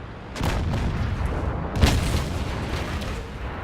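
Tank cannon shots in a tank battle game, two deep booming blasts about a second and a half apart over a constant low engine rumble, loud and close.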